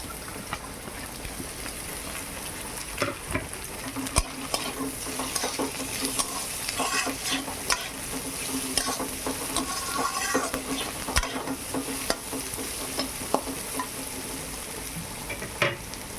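Chopped green chilli and onion fry in a pan, a continuous close sizzle broken by repeated scraping stirs and small clacks of the spatula, steady and even with no talking.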